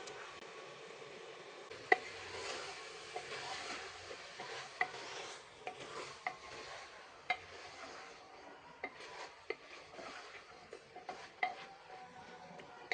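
Goat liver and fat being stirred and sautéed with chana dal in a pan, with soft scraping and faint sizzling broken by sharp utensil clicks against the pan, quiet and close, with no voices.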